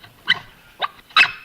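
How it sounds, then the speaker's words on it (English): A dog barks three separate times in short, sharp yips spaced across a second and a half, moderately loud and heard without any talk over it. "Sounded like a dog."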